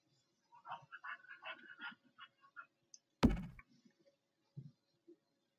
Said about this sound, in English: Quit barking at me.